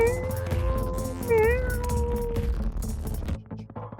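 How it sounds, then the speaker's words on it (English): A cat meows several times, drawn-out and wavering, over a low background hum; the cries are clear and fairly close. "Do you hear a cat? I hear a cat."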